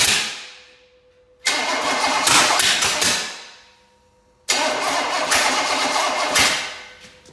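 A Chevy small block engine on a test run cranks and fires in two loud bursts, each roaring for a few seconds then dying away to near quiet before restarting.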